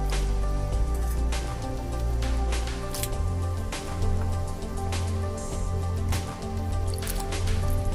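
Cut potatoes being swished and washed in cool water, with steady liquid sloshing, squishing and dripping close by.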